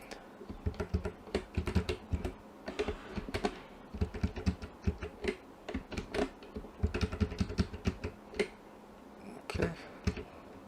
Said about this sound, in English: you can use just the arrows from the keyboard to make small moves